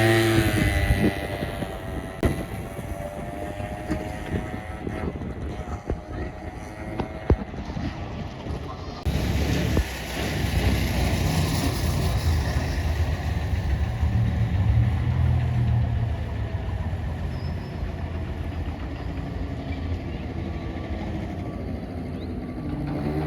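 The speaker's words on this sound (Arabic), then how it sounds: "تسمع دقات الموتور" Small motorcycle engine idling steadily up close, with a rapid, even ticking pulse and a low rumble that holds for the whole stretch and changes tone partway through.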